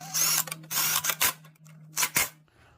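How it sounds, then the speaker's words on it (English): Ratcheting and clicking bursts from a socket wrench turning 14 mm bolts on a Honda Accord or Odyssey engine mount, close and loud in several short runs with brief pauses and a steady low hum underneath. "Those 2 bolts right there, they are 14 mil sockets, so let's give them a quick turn."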